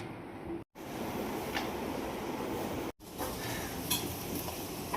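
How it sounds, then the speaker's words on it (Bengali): Food frying in a wok (kadai) produces a steady, loud sizzling hiss with occasional stirring clatter, broken by two brief silent cuts. "কড়াইতে কত সুন্দর সব ভাজা ভাজা হচ্ছে"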